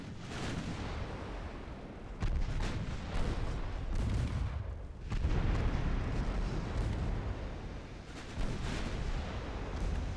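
Naval guns fire over and over in a warship battle in the game Ultimate Admiral Dreadnoughts, giving loud, booming, rumbling blasts that come in waves. Sharper reports break through a dense, continuous low roar, with no talking.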